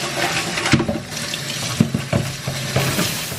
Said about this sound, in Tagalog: Oh, lakas na tubig.